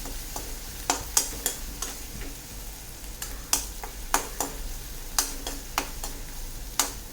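Onion softens in a pan with turmeric powder for a pumpkin masala, a low sizzle punctuated by sharp, irregular clinks and taps of a spoon stirring against the pan.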